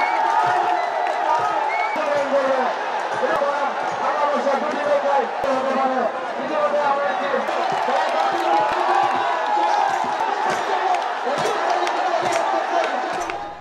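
Thousands of people gathered on both banks of the Ichamati river at Gabtali, Bogura, for a traditional nouka baich boat race, a dense continuous crowd roar with shouting and cheering, loud and steady throughout.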